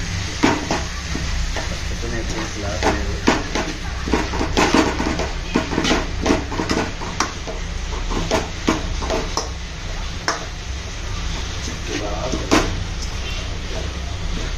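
Mottikaya curry with added salt is stirred in a pan, a spoon scraping and clinking against the metal in repeated strokes over a steady close sizzle of frying, with a few louder knocks of the pan.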